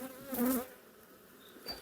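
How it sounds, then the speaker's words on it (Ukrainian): Honey bees buzz in a brief, close burst near the start as they fly up from an empty comb frame, then the hum thins to a faint background drone. "зараз і звідти теж злетить яка кількість бджоли"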